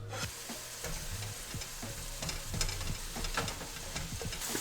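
Meat and onions sizzle loudly and steadily in a hot pan, with frequent crackles and the scrape of stirring running close and clear throughout.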